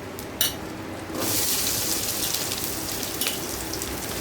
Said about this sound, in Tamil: அந்த வெங்காயம் வந்து எண்ணெயிலே லைட்டாக அப்படியே நல்லா வதங்கி வந்துச்சு